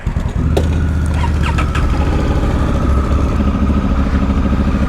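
Motorcycles start up and settle into a loud, steady idle close by, a continuous low engine rumble with a brief clatter at the start and no talking, near Cheddar Gorge in the UK.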